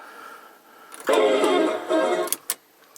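A PYE 5024 music centre's cassette deck fast-forwarding on a freshly fitted belt: a steady, close mechanical whir for about a second and a half, followed by a couple of sharp clunks as the mechanism stops.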